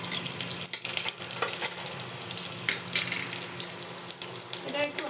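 Chopped garlic sizzles in hot oil with a dried chilli and black cumin, a steady close hiss of frying broken by occasional scraping and stirring clicks.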